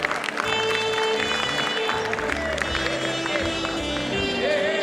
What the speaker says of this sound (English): Please round of applause for Sandhya Mathur ma'am.